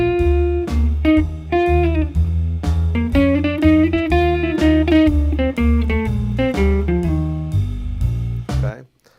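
Guitar playing a chromatic blues lick over the first bars of a 12-bar blues, a clean run of distinct picked notes with no talking, ending on a sustained note that cuts off.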